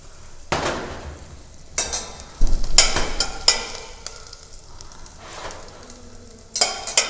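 Onions sauteing in hot oil for chicken avgolemono soup, a crackling sizzle in bursts with stirring clatter and a few sharp pan knocks, close by and fairly loud.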